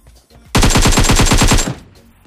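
Rapid automatic gunfire in the battle royale game BGMI, a loud, tight burst of about a dozen evenly spaced shots lasting just over a second, with faint game sounds before and after.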